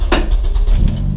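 A Honda K20 engine in an EG Civic runs loud and close just after a cold start, a rough steady rumble with a sharp burst of noise near the beginning.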